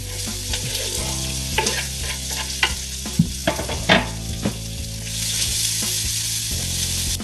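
Chopped chilies and onions fry in hot oil in a pan for girmit, a North Karnataka tea-time snack, with a steady close sizzle, occasional stirring clatters, and a surge of louder hissing toward the end.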